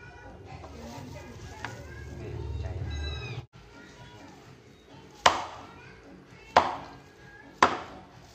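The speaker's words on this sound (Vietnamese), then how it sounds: "thịt gà nóng là nó chặt nó nát." Hot clay-roasted chicken is chopped outdoors, three sharp separate thwacks of a blade on a board late in the stretch, preceded by cat meows and a low rumble.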